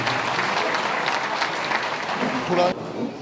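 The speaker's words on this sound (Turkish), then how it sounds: "Alkışlarınız lütfen Enes Beyefendi için." A hall audience at a Turkish community event in Charleroi, Belgium, breaks into loud, close applause that holds steady, then cuts off abruptly near the end, leaving a quieter room.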